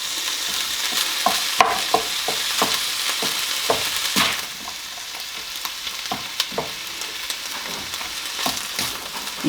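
Minced meat with onions and peppers fries in a pan with a constant close sizzle, punctuated by repeated scraping and clacking as a utensil stirs the mixture.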